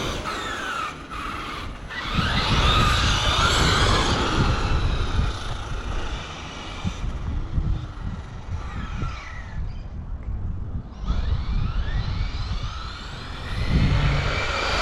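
An RC truck with a 1650Kv brushless motor and 200A ESC runs at full throttle, giving a loud, continuous whining drive with gear whir and shifting pitch as it speeds up and slows down.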